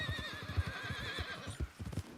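Neighing and hoof clops from a black horse with white spots in Red Dead Redemption 2, with repeated soft thuds in an uneven trotting rhythm beneath a steady airy game ambience.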